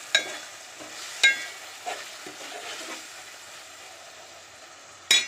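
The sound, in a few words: stirring tomatoes into frying potato brinjal curry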